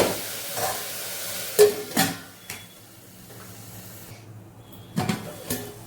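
Chicken stirred in a frying pan while cooking nombu kanji, a few scraping spoon strokes and clatters over a soft sizzle, close by with quiet gaps between.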